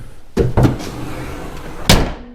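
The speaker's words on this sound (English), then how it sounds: "As soon as I close that hood" A Jeep Liberty CRD 2.8L hood is pushed down and shut with a couple of close, heavy thuds in quick succession, then a second solid slam a moment later, loud against a faint background.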